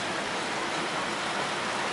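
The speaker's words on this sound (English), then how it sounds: "It's so raining." Rain falls during a family caravan holiday in Cleethorpes, UK, making a dense, even hiss of steady rainfall, close and constant through the whole short stretch with no talking.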